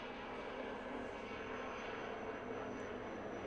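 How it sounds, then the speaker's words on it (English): A large helicopter flies close outside a window, giving a steady, loud, broadband engine and rotor roar that holds evenly throughout without letting up. "The biggest helicopter is like right in front of the window."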